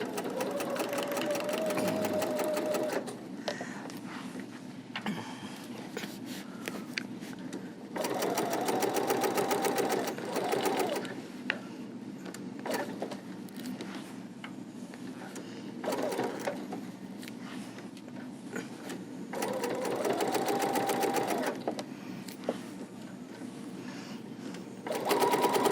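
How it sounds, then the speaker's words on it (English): A sewing machine stitches a quarter-inch seam with backstitching on a quilted zipper bag, loud humming bursts of rapid needle chatter that stop and restart several times, with brief quiet handling gaps between runs. "I'm going to put it in my machine and sew 1/4 of an inch, making sure that I back stitch."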